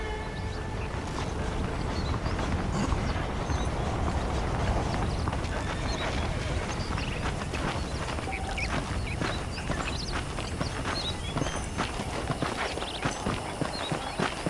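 Horse hooves clip-clop steadily in the Red Dead Redemption video game, an even, continuous gait heard close over a constant ambient background, with no voices.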